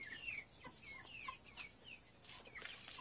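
Backyard chickens cluck and chirp softly nearby, a run of short, repeated calls over a faint steady background hiss.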